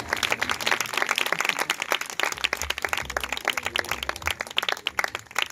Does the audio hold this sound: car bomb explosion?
no